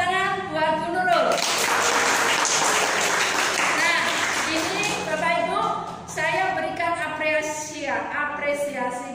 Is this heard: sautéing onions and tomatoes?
no